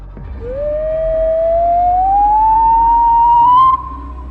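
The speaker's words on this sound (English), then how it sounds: "The whistle came from down the hall, just beyond the shadows." A single sustained whistle slowly rising in pitch over a few seconds, loud and steady, then cutting off abruptly, with a low rumble underneath.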